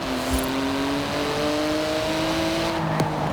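A 3.8-litre twin-turbo flat-six of about 700 horsepower in Forza Horizon 4 accelerates with a steady climbing engine drone, rising pitch through the gears and a quick shift near the end, loud and alone.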